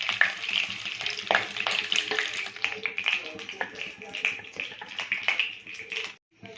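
Boal fish pieces frying in oil, a bright crackling sizzle with scattered pops and spatters, close and fairly loud, cutting off abruptly near the end.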